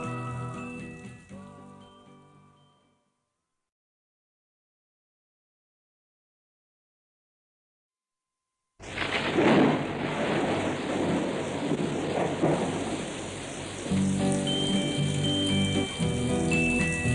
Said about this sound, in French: J'écoute en soupirant la pluie qui ruisselle, frappant doucement sur mes carreaux